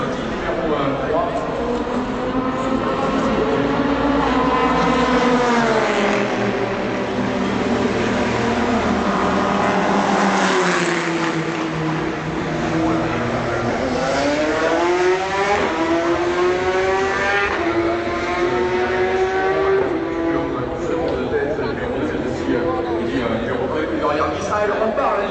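An Audi race car at the 2013 24 Hours of Le Mans roars past, its loud engine note sweeping up and down in pitch through the passage, with a commentator talking over the continuous track noise.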